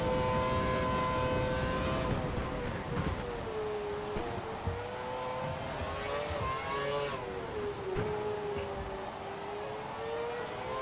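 A Formula 1 car in F1 2012 at Silverstone screams at high revs, the engine note rising and falling through gear changes and corners, loud and continuous with no talk.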